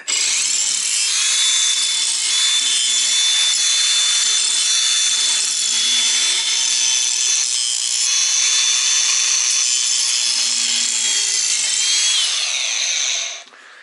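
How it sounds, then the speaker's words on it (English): A small angle grinder runs continuously around the cut end of 3/4-inch black steel gas pipe, putting an edge on it for threading; a loud, steady high whine with grinding rasp lasts about twelve seconds, then spins down. "I just take my little grinder and I just go around it"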